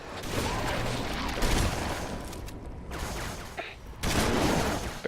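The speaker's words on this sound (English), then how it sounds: "Better shoot that guy so he can't get infected again." Gunfire in the video game Halo 3: bursts of shooting and weapon clatter, loud and dense, with brief lulls between volleys.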